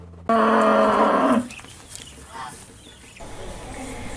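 Cattle held at a cattle trader's home in Bangkalan regency moo once, loud and close, in a long drawn-out low call. Fainter animal and yard noises follow.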